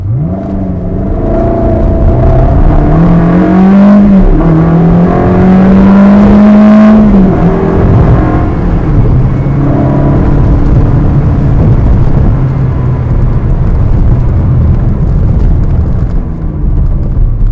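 A 2004 Ferrari 360 Spider accelerates hard from second gear through the gears over roughly a quarter mile, its engine note climbing loud and close, dropping at each shift, then climbing again, with no voices.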